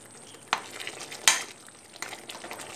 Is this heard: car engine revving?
no